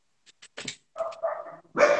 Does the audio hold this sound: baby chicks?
no